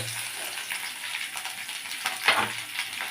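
Chopped tomato goes into new potatoes frying for aloo dum, a continuous close sizzle with a brief louder splash and crackle partway through.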